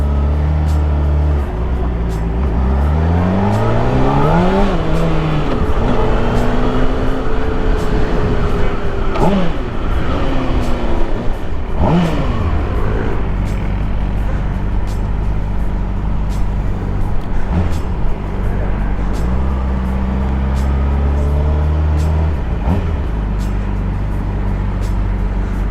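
Honda CBR600RR 600cc sport motorcycle being ridden, its engine droning steadily throughout with several rising and falling revs as it accelerates and shifts, continuous and fairly loud with road and wind noise.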